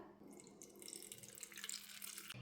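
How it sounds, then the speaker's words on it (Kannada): Water squeezed by hand from freshly made homemade paneer trickles and drips down, faint and steady with small splashy flickers and no voices. "ಇದನ್ನೀಗ ಒಂದು ಸ್ವಲ್ಪ ನೀರು ಹಿಂಡ್ಕೊಂಡ್ಬಿಡ್ತೇನಂತ"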